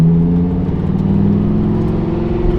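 A Lamborghini engine hums steadily at close range, with a low, even drone and a slight rise in pitch as the car drives along.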